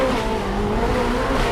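A loud, close engine note from a tuned Ferrari 488 Pista pulling hard in fourth gear, with tyre squeal as the rear slides. The roar is sustained and continuous.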